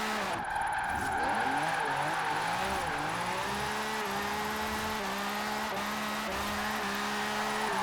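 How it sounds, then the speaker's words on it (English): A British classic car's engine in Forza Horizon 4 revs high and holds a steady, buzzing drone while drifting uphill, its pitch rising and falling with throttle changes and faint tire noise underneath. "It's a very rev happy engine, this."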